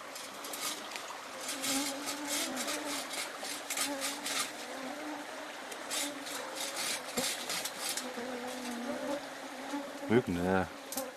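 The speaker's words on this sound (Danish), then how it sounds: "Myggen har ikke rigtig fundet ud af det her deep." Mosquitoes buzzing steadily around a person trekking in wet wilderness, a near, whining drone that rises and falls throughout, with occasional rustling and a brief louder tonal sound near the end.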